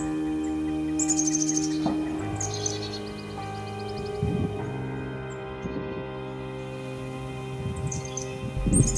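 Birds sing and call in a North Carolina park swamp, a nuthatch among them, with bright chirping phrases and steady insect drone layered over low background hum throughout.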